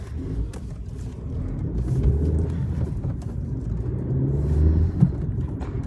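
A car driving along a road, taken slowly onto the rough unpaved shoulder at a bend, with a steady low engine and tyre rumble that swells slightly toward the end, with no talking.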